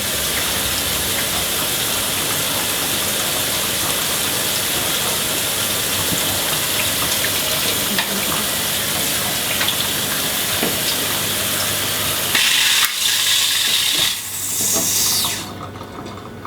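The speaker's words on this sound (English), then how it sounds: "Now watch how fast it is to get the pressure out of this pot." A pressure cooker of chickpeas venting steam pressure: a loud, continuous rushing hiss that stops abruptly near the end and gives way to a few quieter clatters.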